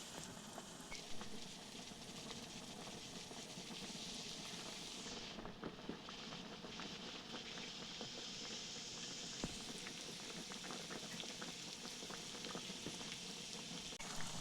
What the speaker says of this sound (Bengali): তো এরপর এগুলি হাই ফ্লেমে 10 মিনিটের মতো ফুটিয়ে নেব